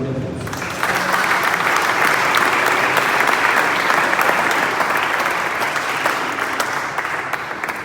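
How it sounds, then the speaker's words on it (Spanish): Audience at a panel on the Cristero War in Durango breaks into strong, sustained applause, dense clapping rising quickly and continuing steadily for several seconds. "Le damos un fuerte aplauso."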